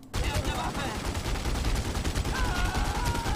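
Sustained automatic gunfire as a full magazine is emptied in the crime video game The Godfather II, a dense, continuous loud rattle of rapid shots lasting throughout.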